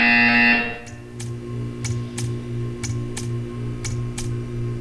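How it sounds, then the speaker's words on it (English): Portal 2 test-chamber buzzer: after a loud tonal blare fades, a series of sharp, evenly spaced electronic buzzes repeats about twice a second over a steady hum, with no one speaking. "You will hear a buzzer."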